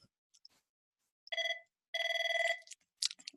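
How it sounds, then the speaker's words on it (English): A landline telephone rings in an office setting, two bursts of harmonic electronic trilling, the second longer, fairly close and clear, with a faint brief sound after. "of course, the phone."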